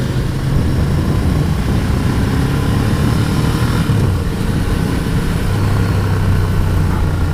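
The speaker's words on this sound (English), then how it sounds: "Oh, really good exhaust note off throttle." A stock-exhausted 2015 Ducati Scrambler rolling off the throttle, its exhaust burbling low and steady at close range under constant wind rush, with no distinct revving peaks.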